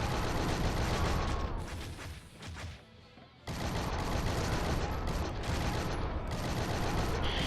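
Dense, continuous pistol fire from the pistol hovering trick in Shank 2, loud and sustained, briefly thinning to a lull before the rapid shooting resumes.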